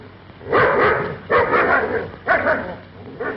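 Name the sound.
dog barking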